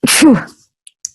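A single loud sneeze from a person with allergies, a sharp burst followed by a brief voiced tail, then quiet with two faint ticks.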